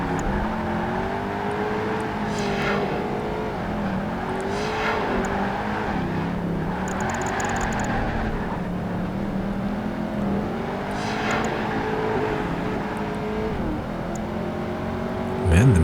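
A Ford Mustang engine in the Project Gotham Racing 2 racing game, revving up and down through gear changes with a steady droning roar and whine, continuous and fairly loud.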